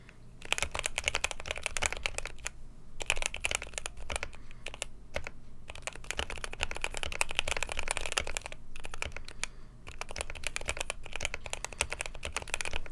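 A Keychron Q6 mechanical keyboard with its original keycaps is typed on steadily, giving a dense run of clacky keystrokes with a few short pauses. The typing is heard close up with no talking.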